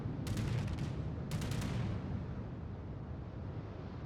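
Anti-aircraft guns on the battleship Texas in World of Warships fire in two quick rattling bursts of sharp cracks, then a low rumbling background continues, no voices.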